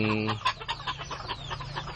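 Bantam chickens cluck in quick, irregular bursts close by, with a low hum running underneath.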